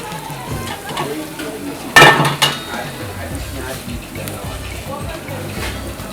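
Tomatoes, onion and tomato paste are stirred in a pot over heat, giving a soft steady sizzle with one sharp clang of a utensil against the pot.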